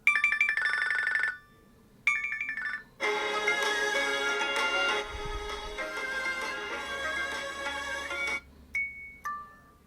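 A bright electronic ringtone from a Samsung Galaxy Watch Ultra plays in short bursts, pausing and restarting, then a longer melodic stretch before tapering off with a few single tones.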